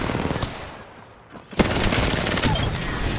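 Rapid automatic gunfire rattles loudly in an Apex Legends firefight, with a brief lull before a sharp burst resumes into sustained, dense shooting.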